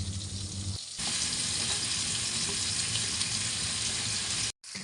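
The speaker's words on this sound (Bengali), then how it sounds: "এখন আমি আলুগুলোকে ফ্রাই করে নিব এক এক করে" Potato pieces fried one at a time in hot oil for a fish and bean curry, giving a loud, dense, continuous sizzle that swells sharply as they go in and holds steady up close before a brief break.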